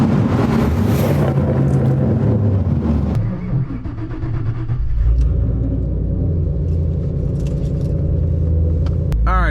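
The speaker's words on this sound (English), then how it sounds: "we are back in the Shelby GT500" A Shelby GT500 gives off a deep, loud engine rumble up close. It revs and surges early on, dips briefly, then settles into a steady low idle-like growl with some wind noise. No one speaks.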